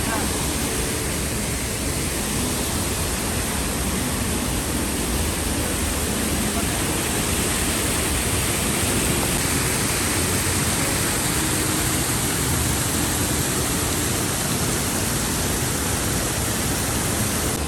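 A waterfall at Ginzan Onsen, seen from a red bridge, gives a steady, dense roar of rushing water that fills the whole stretch without letup.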